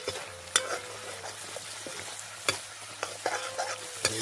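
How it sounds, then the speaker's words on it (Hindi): Tomatoes fry in a pan at a riverside camp cooking spot, giving a low, steady sizzle. Sharp clicks of a spoon or spatula scraping and knocking the pan sound at irregular intervals, close by, with no talking. "तो ज़रा टमाटर भून जाएं,"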